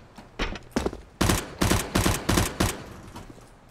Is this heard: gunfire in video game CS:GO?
yes